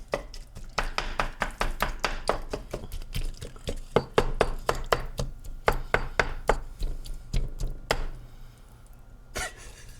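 Minced meat for moussaka beaten in a pan or bowl with a utensil, a fast, steady series of sharp close strikes that slows and trails off near the end, no speech.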